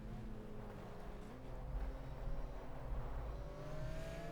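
GT race car engine in the GTR2 PC racing game, a faint, steady engine drone that rises gradually in pitch as the car accelerates, with no one speaking.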